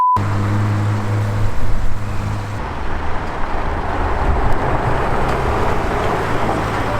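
A McLaren LT supercar in London street traffic, heard as a steady loud roadway rumble with engine drone and passing vehicle noise, fairly close, with no distinct single pass-by standing out and no talk.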